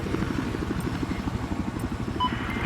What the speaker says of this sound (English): Enemy helicopter south of your current position.